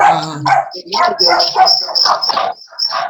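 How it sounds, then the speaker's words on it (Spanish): Several excited dogs bark and yip in rapid, overlapping bursts, loud and close. "aquí los perritos se nos alborotaron"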